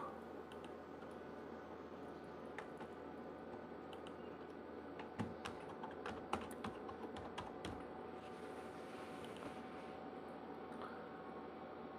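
Keyboard typing while entering a group name in a bulk messaging web app, a steady run of soft, close keystrokes over a constant background hum, with a few sharper clicks in the middle.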